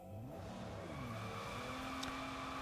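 A Bugatti in the game PUBG Mobile accelerates with a continuous engine drone whose pitch climbs and shifts through gear changes. It is fairly faint and steady throughout, with no speech.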